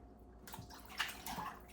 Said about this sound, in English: So you have to get some warm water, hot water